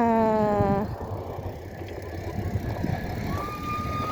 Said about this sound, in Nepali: ट्रेनको टाउको मात्रै आइरहेछ